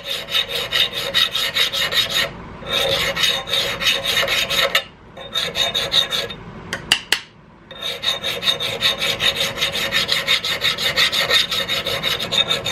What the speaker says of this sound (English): I'm grabbing this little half round file here